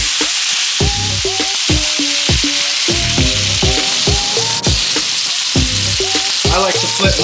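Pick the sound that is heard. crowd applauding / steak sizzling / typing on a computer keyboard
steak sizzling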